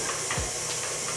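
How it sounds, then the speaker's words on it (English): Hot water hits a hot brownie pan inside an oven while baking baguettes, giving a continuous broad steam hiss with a brief low thump, fairly loud and steady, with no voices. "so I'm going to take it and pour it into the brownie pan in the oven"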